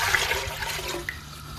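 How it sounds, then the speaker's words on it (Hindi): Two litres of water poured into a cooking pot for chicken soup, heard as a short, fairly quiet rushing gush of water that tapers off. "मैं इसमें 2 लीटर पानी डाल लूँगा।"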